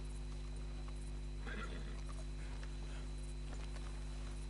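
Horse in the video game Red Dead Redemption 2, heard as soft clip-clop hoof steps and a brief whinny around the middle, faint behind a steady low game hum.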